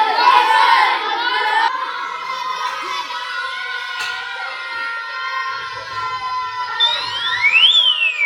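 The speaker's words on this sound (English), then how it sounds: "a loud siren when it reaches extreme levels" Noisy children's voices fill the room, then a rising and falling electronic siren wail from a classroom noise alarm cuts in near the end as noise reaches extreme levels.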